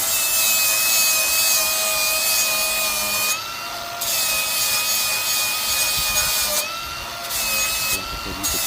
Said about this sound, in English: Here I go again, chipping the rest of the grass out so I can get a better angle.